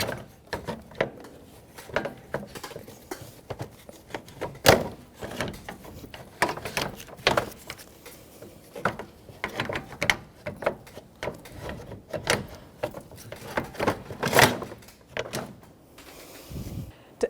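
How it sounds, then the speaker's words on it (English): A plastic radiator fan shroud being worked loose and pulled from a Nissan Frontier, with irregular plastic clicks, creaks and scraping knocks, several sharp louder snaps, close and without talk. "We're going to have to manipulate that shroud forward and then pull this up."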